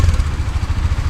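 Bajaj Dominar 400 motorcycle engine and exhaust running steadily up close, a loud, deep, throbbing rumble with a continuous low pulse and no talk.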